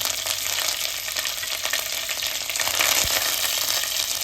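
Curry leaves sizzle loudly in hot oil with mustard seeds and dried red chillies for a big lemon pickle, a steady close crackling hiss with a brief sharp pop near the end.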